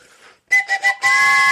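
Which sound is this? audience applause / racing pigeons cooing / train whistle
train whistle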